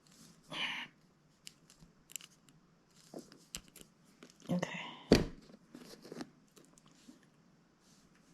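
A hand cutting tool snips through Cat6 Ethernet cable, giving a few sharp close clips and crunches amid soft handling rustle and quiet breathy background.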